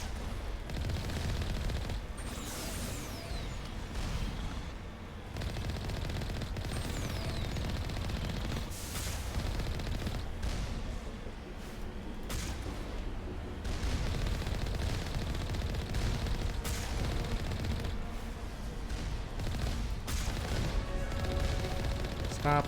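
Sniper turrets firing in the video game Mass Effect, with sustained sharp shots and bursts of gunfire over a dense battle background, moderately loud and steady.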